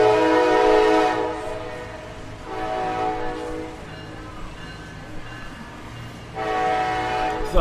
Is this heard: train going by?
yes